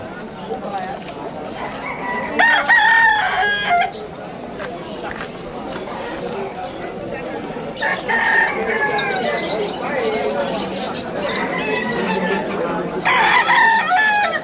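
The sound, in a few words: chickens and roosters crowing at a poultry stalls in pet market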